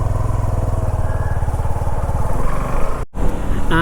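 A Suzuki V-Strom SX 250 motorcycle cruising on a highway, its engine droning loud and close with a steady throb, wind rushing over it and a brief dropout near the end.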